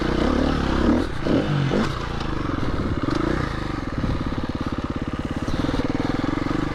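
A new KTM dirt bike rides off-road, its engine droning continuously up close with a rhythmic pulsing throb and rattling clatter from the rough terrain throughout.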